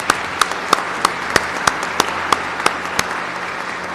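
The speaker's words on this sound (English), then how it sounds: "So if everyone could join me in a round of applause." Sparse, evenly spaced handclaps ring out at a press conference, about ten sharp claps in four seconds at a steady rhythm, fairly close, over a low room hum with no talking.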